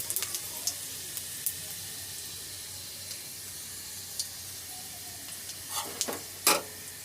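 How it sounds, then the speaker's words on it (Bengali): Dry red chillies, five-spice and cumin frying in hot oil in a village kitchen, a steady faint sizzle with a few sharper crackles and pops toward the end, no talking. "তেলের পরে দিয়ে দিলাম শুকনো লঙ্কা, 5 ফোড়ন, জিরে। তো আমি একটু ভালো করে সুন্দর করে ভেজে নেব।"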